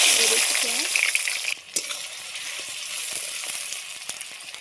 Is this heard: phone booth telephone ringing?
no